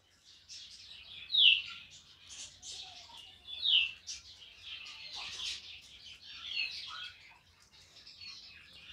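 Budgerigars chirping in a cage with chicks, a busy stream of high twittering chirps with a few sharper peaks, close and moderately loud.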